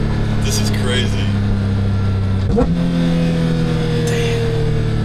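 A 2022 Porsche 911 GT3 engine roars loudly and steadily through its exhaust, rising to a sharp rev surge and then settling back to a deep drone, with a person's excited voice breaking in briefly over it.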